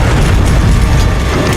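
Loud, dense rumbling fills the whole clip as a desert ground shakes before the monster Diablos bursts from the sand, a continuous low roar with a mechanical grinding texture in a film sound effect.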